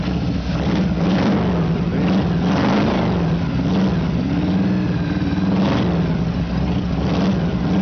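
A 1992 Harley-Davidson FLHS 1340 Evolution motorcycle engine runs steadily up close, a loud continuous low rumble with slight swells in revs after sitting unused for several months.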